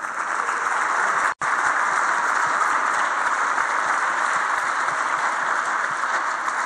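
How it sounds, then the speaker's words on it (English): A conference audience claps for a speaker at the end of a session. The applause is a dense, even wash of clapping that stops briefly once and then runs on at full strength. "once again, round of applause for all the Gosteteers"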